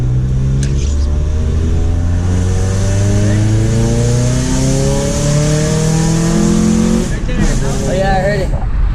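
A Nissan Sentra SE-R Spec-V with aftermarket headers and a suspected exhaust leak, its engine revved loudly and held at climbing pitch for several seconds. Brief voices and rough popping come near the end.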